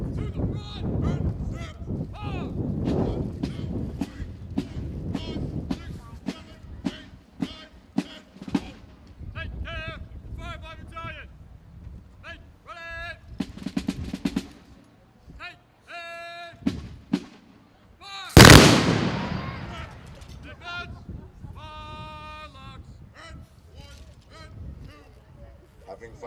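A battle reenactment on Patriot's Day in Lexington, Massachusetts, with a Daniel King howitzer and musket fire: one loud, close cannon blast stands out among scattered sharper reports, while a narrator talks through much of it.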